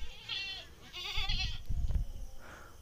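Barbari goat, black in colour, bleating several times in a row, with a nasal, wavering call of moderate loudness at close range over a faint background of farm noise.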